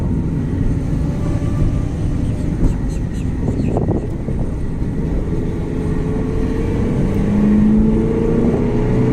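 A Honda car running with no engine oil cruises along with a steady low engine and road drone, wind buffeting the microphone throughout and a faint rising whine near the end.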